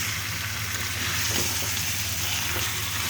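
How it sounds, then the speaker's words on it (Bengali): Meat mixed with spices while frying in a pan, giving a dense, continuous sizzle with faint stirring scrapes throughout, close by and fairly loud. "মাংস দিয়ে এখন হচ্ছে সুন্দর করে মশলার সঙ্গে মিশিয়ে নেব।"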